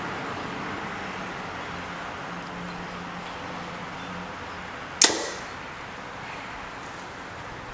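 A hunting arrow loosed from a bow outdoors near a road gives one sharp, loud snap and thwack, with a brief decaying ring, set against steady low traffic and wind noise.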